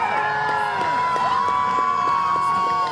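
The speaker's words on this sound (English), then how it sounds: "this is when I need the crowd to get louder than you've been the entire time" A Texas crowd at a BMX bicycle stunt show cheers and whoops continuously, a loud sustained roar with high shouts rising and falling throughout.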